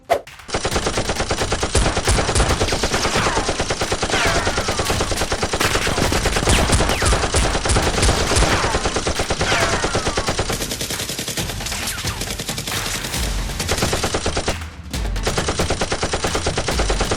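Nerf blasters fire during a Nerf war game, with loud, dense, rapid bursts of shots running almost continuously and briefly dropping out near the end.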